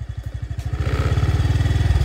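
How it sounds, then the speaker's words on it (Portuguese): Honda Biz motorcycle engine revved in neutral while parked, a close, loud pulsing putter that quickens and rises steadily as the throttle opens. "pelo barulho da moto, você vai perceber o quanto você tem que acelerar"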